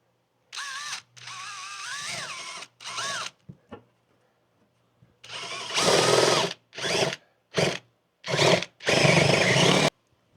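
Power drill fitted with a long butterfly spade bit boring through a wall, revving in several bursts of varying length with short pauses between, loud and close, the pitch wavering as the bit bites.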